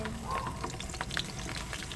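Smoked milkfish frying in a pan, a steady close crackle and sputter of hot oil with small pops throughout.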